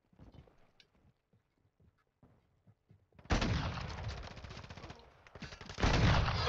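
Rapid gunfire from a sniper-focused shooter video game erupts in two loud sustained bursts after a stretch of quiet clicks and soft game sounds.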